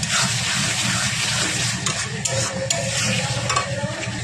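Spice paste being stir-fried in a pan, a close, steady sizzle broken by several sharp scraping and stirring clicks, with no voices.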